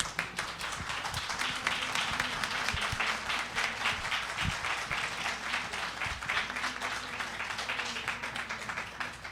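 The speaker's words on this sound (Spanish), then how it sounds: "primero aplaudimos a Ana." An audience applauding after a lecture on the Casa del Obrero Mundial, steady dense clapping from a roomful of people lasting several seconds, loud and continuous with a few sharper individual claps standing out.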